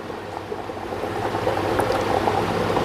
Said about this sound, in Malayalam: വെജിറ്റബിൾ ഗ്ലിസറിൻ ചേർത്ത് കൊടുക്കുന്നുണ്ട് കേട്ടോ